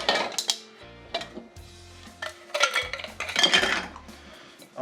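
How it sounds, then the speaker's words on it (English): Big ice cubes tossed into glass cocktail mixing glasses for a Boulevardier: a series of sharp, bright clinks and clatters in irregular bursts, close and fairly crisp, with quiet gaps between and no talking. "we're going to toss some ice in our mixing glasses"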